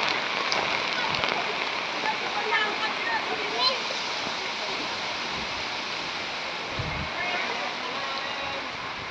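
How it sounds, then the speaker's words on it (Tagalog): Heavy typhoon rain pours down in a steady, dense roar like rushing water, with splashing and splatter throughout; voices talk briefly within the downpour. "Lakas po ng ulan ngayon."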